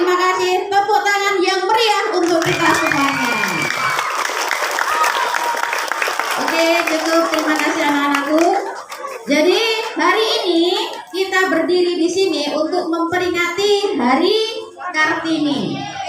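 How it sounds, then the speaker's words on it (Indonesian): Students and staff at a school Kartini Day ceremony on a high school field clap together in loud, sustained applause. Children's voices and cheering rise through it before the clapping thins and voices take over near the end. "Tepuk tangan"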